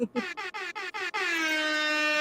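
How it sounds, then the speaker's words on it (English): An air horn blares in five quick staccato blasts, then holds one long loud continuous honk. "So you want the air horn?"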